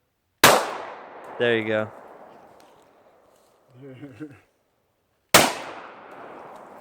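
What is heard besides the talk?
Glock 21 pistol gunshots at night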